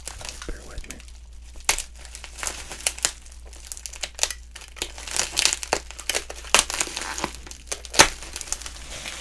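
Sustained crinkling, crackling and tearing of wax paper as an unopened wax pack of sports cards is cut open, with dense irregular bursts close to the microphone and no talking.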